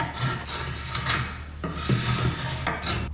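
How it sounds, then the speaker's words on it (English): A painter's knife gouges wood with continuous close scraping and rasping, loud and steady, with slight surges in each stroke. "How about gouging it with a painter's knife?"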